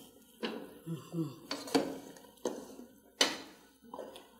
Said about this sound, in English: I can use this, right? To stir it.